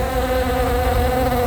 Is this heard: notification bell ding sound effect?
no